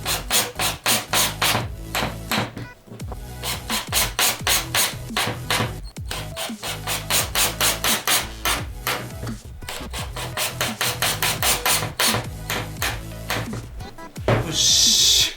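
A piece is hammered into wood for a homemade marking gauge, with steady rapid rhythmic blows struck close and loud, continuing in long runs broken by brief pauses.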